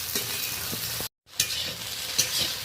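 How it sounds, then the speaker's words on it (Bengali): Okra stir-fried in a wok gives a continuous crackling sizzle with stirring scrapes, broken by a short silent gap partway through before the frying sound resumes. "ভালোভাবে এইভাবে নেড়ে নেড়ে একটু ধৈর্য ধরে ঢ্যাঁড়সটাকে ভেজে নিতে হবে।"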